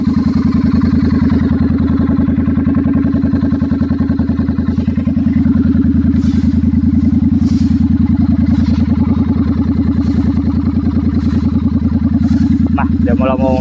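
Triumph T100 motorcycle fitted with an oversize header exhaust idles steadily up close, a continuous loud low throb with a rapid even pulse, lasting the whole stretch without talk.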